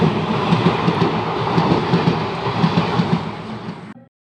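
A passing train rumbles loudly and steadily on the rails, heard close up from a door of a moving train, with a rhythmic clickety-clack running under the roar before it cuts off abruptly.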